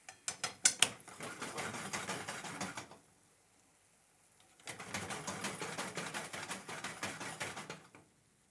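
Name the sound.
turning on the stove burner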